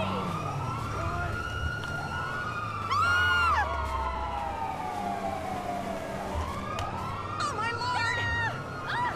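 Police car sirens in GTA 5 Online wail and sweep up and down in overlapping cycles across the whole stretch, loud and close, layered over a low rumble of engines and game noise.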